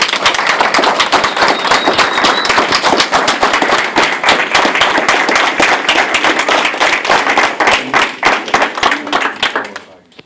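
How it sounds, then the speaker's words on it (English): A crowd at an Army Bronze Star pinning ceremony breaks into a dense, loud round of applause that carries steadily for about ten seconds, then thins out and fades at the end. "So one more round of applause, please."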